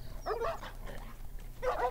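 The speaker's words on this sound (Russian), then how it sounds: "Собачки. И чё, они на нас нападут или убегут?" Dogs barking in the video game The Last of Us, two short bursts of fairly faint, distant barks over a low steady hum.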